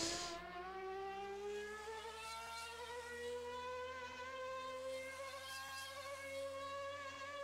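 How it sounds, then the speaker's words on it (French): Strained V10 race car engine in the PS2 game Formula Challenge, a thin buzzing whine with stacked harmonics that slowly rise in pitch, continuous and fairly quiet. "On sent que le moteur V10, il en peut plus, quoi."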